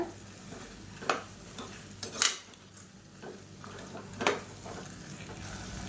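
Vegetables sauté in oil for a white biryani while a utensil scrapes and clinks against the pan, giving a few sharp metallic knocks over a low steady sizzle.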